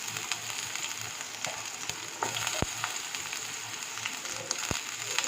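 Chopped onion sizzling steadily in hot oil in a pan while cooking icha mara, a prawn paste dish, with a dense continuous hiss and a few sharp clicks and spatula taps; no one speaks.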